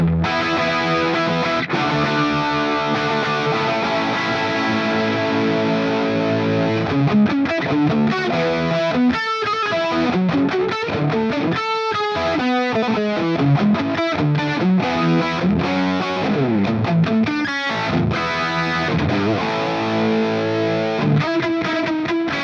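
A Mesa Boogie Dual Rectifier Roadster guitar amp in spongy mode, a heavily distorted electric guitar playing chugging riffs and sustained chords, loud and continuous.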